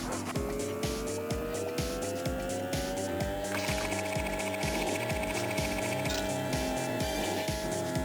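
Kart engines drone steadily with tire squeal and skidding in the Kursed Kart Racers handheld game, a continuous loud mix of motor hum, rhythmic mechanical pulses and screeching tires, with no voices.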